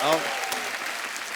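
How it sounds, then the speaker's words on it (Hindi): A studio audience breaks into applause to welcome guests on a comedy show, a brief burst of clapping that follows a speaking voice and holds at a steady, fairly loud level. "जोरदार तालियां हमारे मेहमानों के लिए"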